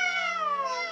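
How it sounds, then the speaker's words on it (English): Kittens meow in Disney's The Aristocats, a single drawn-out, tonal meow lasting about a second, close and clear. "Oh, their little meows are so adorable."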